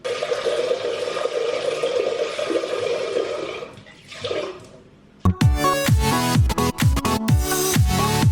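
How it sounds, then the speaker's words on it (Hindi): Lentils (dal) are washed under steady running water for about five seconds, and the splashing fades into a brief quieter patch before sharp, rhythmic music takes over. "तो वो धो रही हूँ, दाल धुल रही है"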